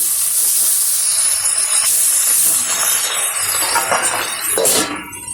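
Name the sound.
frying pabda fish in oil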